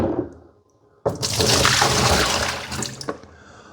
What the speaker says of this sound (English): let's go empty the Yeedi M14 dirty water tank.